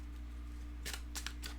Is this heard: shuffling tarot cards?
yes